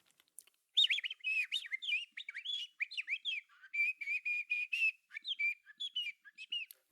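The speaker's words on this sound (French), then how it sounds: "l'on entend juste siffler le vent qui fait danser les branches et le chant des oiseaux" Birds singing in a large forest, with varied chirps, trills and whistled phrases coming in quick bursts, clear and fairly close against a quiet background.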